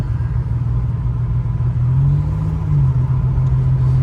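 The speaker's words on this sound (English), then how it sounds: "Turbo is spooling up." A 1986 Buick Regal T-Type's turbocharged engine accelerates from inside the car, a steady loud low rumble rising slightly in pitch mid-way as the turbo spools, with no talking.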